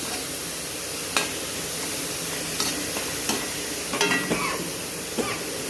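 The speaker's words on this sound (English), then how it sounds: "So now I'm just frying it." Onions for masala Maggi noodles sizzle steadily in a pan, a constant crackling hiss with occasional scrapes and clinks of a utensil stirring.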